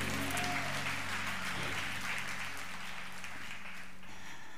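A church congregation claps hands together in steady, dense applause that carries on throughout, loud and close, with no talking over it.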